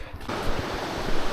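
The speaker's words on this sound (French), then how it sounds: "Petite rivière" A small river flows in the Pyrenees as a steady, loud rushing of water that fills the clip, with wind noise in the microphone.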